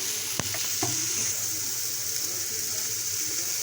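Onions frying in leftover oil from fried eggs, with a pinch of turmeric, a steady moderate sizzle with a couple of sharp clicks near the start.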